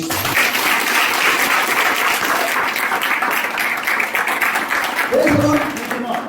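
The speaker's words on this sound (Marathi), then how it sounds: "जोरात टाळ्या वाजवू" A church congregation clapping loudly together, a dense sustained wash of applause throughout, with voices mixed in and a short vocal rise near the end.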